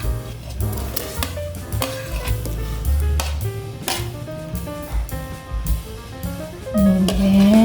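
Ginger goes into a pan with dried shrimp while cooking laing, giving a steady, loud sizzle and frying hiss under repeated stirring and scraping with a utensil, close up and continuous throughout.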